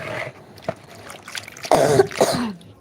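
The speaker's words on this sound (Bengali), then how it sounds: "কাশি হচ্ছে আমারও খুব ঠান্ডা লেগেছে" A person with a cold coughs twice in quick succession, close and loud, after a few quieter throat sounds.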